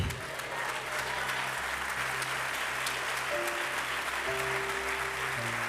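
Church congregation applauds in a full, sustained wash of clapping, loud and continuous, with sustained keyboard or organ tones under the crowd.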